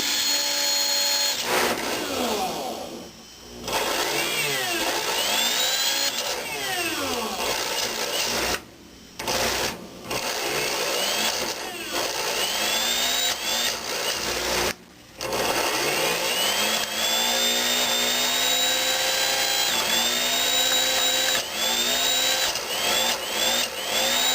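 A small electric motor powered from a homebrew electrolytic capacitor cell whines loudly and steadily, its pitch sliding up and down as it speeds and slows, with a few brief dropouts where it cuts out.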